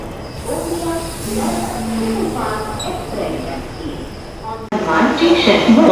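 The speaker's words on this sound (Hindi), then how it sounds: "यहाँ हमारी ट्रेन मनमाड जंक्शन पहुँच चुकी है" The Vidarbha Express stands at Manmad Junction station, a steady rail rumble under voices and platform talk, with a sudden louder surge of noise near the end.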